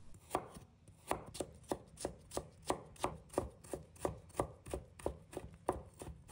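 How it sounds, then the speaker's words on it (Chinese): A knife chops a piece of fresh ginger into mince on a cutting board, with about seventeen crisp, evenly spaced taps in a steady rhythm, close and alone. "一块生姜，把它切成末"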